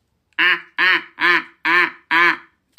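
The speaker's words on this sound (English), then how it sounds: "think this is a duck or a goose." A duck or goose gives five evenly spaced, nasal quacks in a steady rhythm. They are loud and close, with brief silences between.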